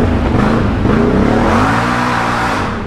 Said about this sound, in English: Wow, you gotta love that exhaust under the bridge.